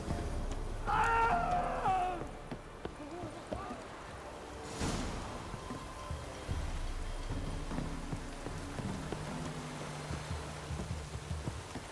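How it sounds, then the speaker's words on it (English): Steady rain falling in The Witcher 3 game world, a soft continuous hiss of drops at low level, with brief animal-like cries and a sharp crack partway through. "Looks like rain"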